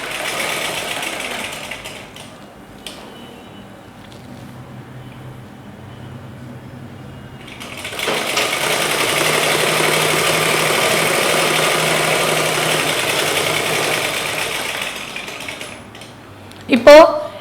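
A sewing machine stitches along the edges of chudithar lining cloth, running in a softer burst early, then a longer steady whirring run, ending with a sharp clack.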